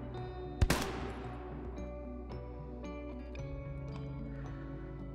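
An M1 Garand rifle fires in Hell Let Loose with one sharp, loud report and a ringing tail, followed by softer distant shots and clicks over a humming battlefield backdrop.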